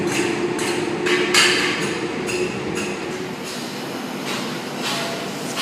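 A Sydney Trains K set electric train pulling away from platform 3 at Chatswood, a steady rumbling roar with repeated clunks and rattles as the carriages roll past close by.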